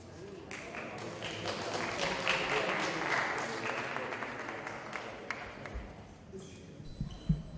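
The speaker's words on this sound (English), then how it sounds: "So give a round of applause to Simon." Steady applause from a conference audience fills the room, sustained clapping that fades toward the end with a few scattered claps.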